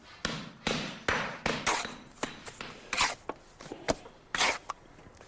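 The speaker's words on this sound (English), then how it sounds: "I'm creating a scutched finish down here with a scutch hammer" Scutch hammer striking a rendered wall to chip a rough scutched finish as a key for render, giving a run of sharp, irregular close knocks with short gaps between them and no talking.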